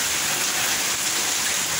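Heavy rain falling steadily in a town, a dense, unbroken hiss that stays loud and even throughout with no voices.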